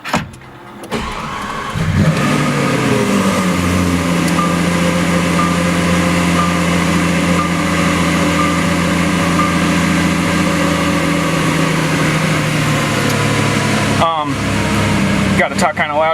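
A 2016 Lamborghini Aventador SV engine cranks and fires about two seconds in, then holds a loud, steady, throbbing idle with a brief flutter near the end while people talk nearby.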